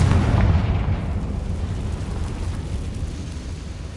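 A Confringo spell explosion in the video game Hogwarts Legacy hits with a loud, deep blast that rumbles and slowly fades over a few seconds.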